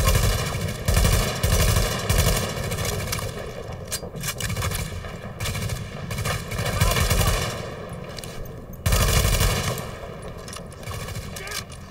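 Rapid automatic gunfire in a video game shooter, loud sustained bursts rattling almost continuously with brief pauses, one sharp renewed volley near the end, no audible talk.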